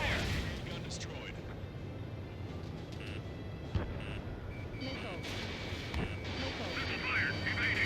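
Gunfire and explosions in the aerial combat video game Ace Combat 7: Skies Unknown, a dense continuous barrage with scattered sharp bursts under radio chatter and engine noise.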